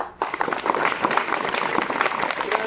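A crowd of students and villagers claps steadily at a village school prize-giving ceremony, a dense, loud wash of applause that starts abruptly and carries on evenly throughout.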